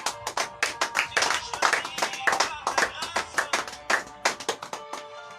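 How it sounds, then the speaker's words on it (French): A church congregation claps for the Lord in a lively, rhythmic burst of applause, with loud, regular hand claps filling the room and some voices cheering underneath. "Est-ce qu'on peut acclamer encore pour le Seigneur?"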